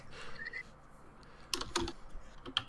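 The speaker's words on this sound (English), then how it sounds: "Oh, someone's typing." Quick bursts of keyboard typing, a few scattered keystrokes near the start and then a denser cluster of clicks toward the end, moderately close and fairly quiet.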